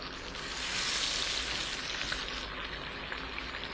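A leaf frying in hot butter in a pan, a close steady sizzle that swells briefly at first and then settles into an even crackle, with no talking.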